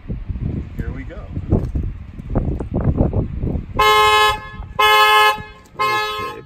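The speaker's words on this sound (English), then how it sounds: "we're going to set off the alarm if we can by sticking our hand in the window." A Tesla's anti-theft alarm, set off by a hand reaching in the window, blares the car horn in three loud, sustained blasts after a stretch of rustling and handling noise.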